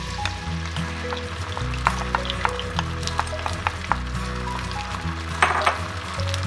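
Soy-based sauce mixture sizzling in a wok with a little hot oil, a steady close frying hiss with a low hum and occasional faint clinks of utensils.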